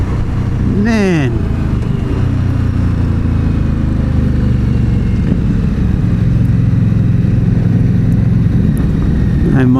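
Indian Scout Bobber motorcycle engine on a demo ride, a loud constant droning hum with wind rush throughout and a brief pitch sweep early on.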